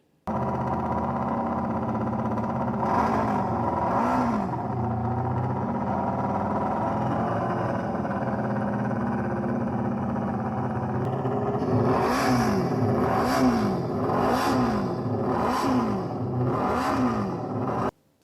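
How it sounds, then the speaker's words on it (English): A four-cylinder MV Agusta racing motorcycle engine revs hard and steadily, a high howl rising in repeated bursts of throttle near the end. "First, listen to the 4-cylinder."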